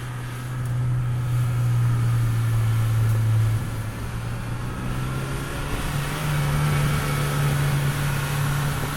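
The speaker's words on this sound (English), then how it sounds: "his idling was crazy because he has no gas left in the car" A Nissan R32 GTR engine idles, nearly out of fuel, with a low, steady hum whose pitch drifts slightly, heard up close for several seconds with no talking.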